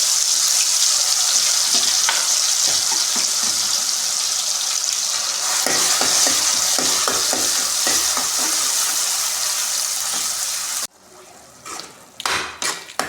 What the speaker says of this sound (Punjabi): ਮਸਾਲੇ ਨੂੰ ਅਸੀਂ ਚੰਗੀ ਤਰ੍ਹਾਂ ਭੁੰਨਾਂਗੇ